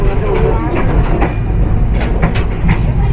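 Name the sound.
SilkCity Express train arriving at Joydebpur Junction platform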